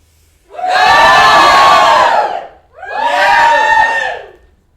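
An audience roars out two long, loud bursts of cheering and shouting, each swelling for about two seconds with a short gap between, close and full, with no talk over it.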